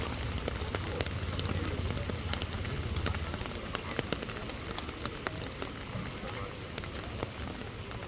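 Heavy rain pours steadily throughout, a dense continuous hiss of drops striking water and surfaces near a fishing spot, with faint voices mixed underneath.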